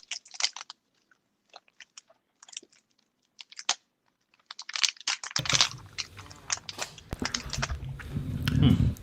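Someone bites into a crunchy Crunch chocolate bar, giving several sharp, close crunches and chewing sounds after a quieter stretch of small clicks, with dense crackling bursts through the second half.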